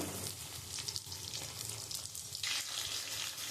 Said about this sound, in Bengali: আলুগুলো আমি হালকা একটু ভেজে নেব